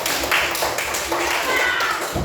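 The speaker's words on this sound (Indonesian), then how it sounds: "Oke, tepuk tangan untuk kelompok 4." A class of elementary school students claps for a student group during a coding lesson, with quick, uneven hand claps close by and voices talking over them.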